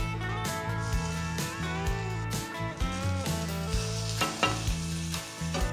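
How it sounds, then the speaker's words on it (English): Smash burgers made from brisket fry on a hot griddle, giving a steady sizzle that runs the whole time beneath loud background music. "peel these off, flip them over, let them cook, add our cheese"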